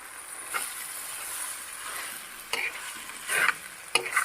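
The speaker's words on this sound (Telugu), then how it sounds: "ఆకుకూర యాడ్ చేసి మంచిగా మిక్స్ చేసుకోవాలి." Chukka kura and spinach leaves are stirred into a tomato curry in a pan. A utensil scrapes in several separate bursts over a faint background sizzle.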